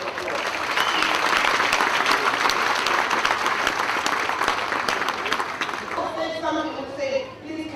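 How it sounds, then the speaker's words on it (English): An audience applauds in a large hall, sustained dense clapping that stays loud for several seconds and then tapers off as voices begin talking over the fading claps. "Please give them a very big round of applause."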